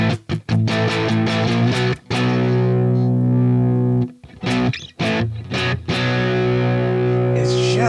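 Loud electric guitar with heavy overdrive distortion, sustained chords broken by a few sharp rhythmic stops and restarts.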